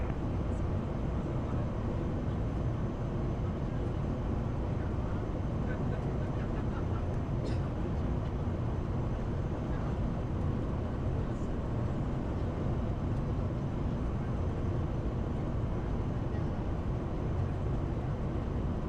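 Steady loud low roar of a Challenger 300 business jet landing at San Juan, heard from inside the cabin as a constant broadband rumble with a few faint brief chirps on top and no clear talk.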